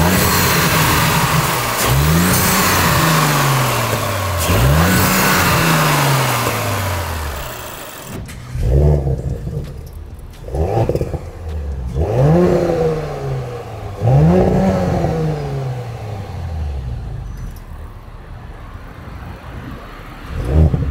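Audi B9 S4 with stock exhaust revving close by, a series of sharp rising and falling blips, the first few louder and dense, then several separate revs dropping back to idle between them, with no talk.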